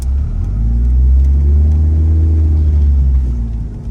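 A turbocharged Jeep fitted with a Supra engine pulls away in gear, its engine swelling into a loud, close, rising drone with harmonic tones that climb and then ease off over a few seconds.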